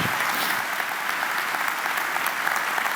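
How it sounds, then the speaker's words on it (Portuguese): A church congregation at a Brazilian evangelical service applauds loudly and densely, a close, continuous wash of clapping from many people with no break. "E vamos aplaudir Jesus agora."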